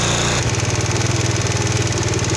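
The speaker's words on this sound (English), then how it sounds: "hopefully you can hear me over the sound of the engine" A small four-stroke Chinese GY6-type scooter engine idles steadily up close with a fast, even chugging pulse, loud and continuous with no voices.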